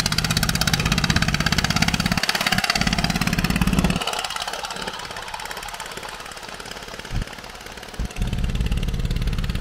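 A small passenger boat's engine on the Mahakam river at a Samarinda dock runs loud and rattling, a fast pulsing chug that drops in level partway through, dips briefly and then rises again, with no talking.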